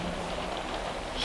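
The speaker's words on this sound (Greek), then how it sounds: "Βρέχει." A theatre play's rain sound effect hisses as a steady, dense wash of falling rain, moderately loud and unbroken, with no voices over it.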